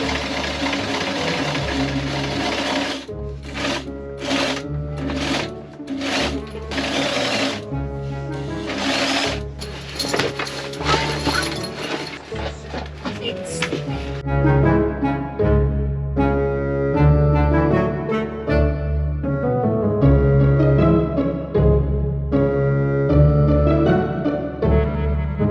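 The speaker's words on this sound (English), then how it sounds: "So I've stuck on the window with its edging, and then I need to sew it in place" Sewing machine stitching edging onto a window, running in short stuttering bursts at first, then humming steadily in a longer rapid run, close and fairly loud.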